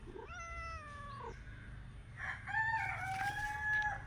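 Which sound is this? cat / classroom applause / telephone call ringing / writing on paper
cat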